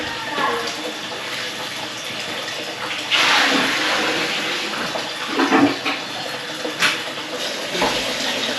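Water runs steadily from a tap in a bathroom, a continuous close hiss with a brief louder gush partway through and faint background noises.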